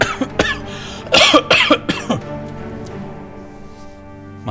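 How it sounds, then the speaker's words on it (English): A man coughs in a burst of several harsh, close hacks, then gives a couple more weaker coughs before a wheezy, strained exhale trails off in a quiet room. "How long have you had that cough?"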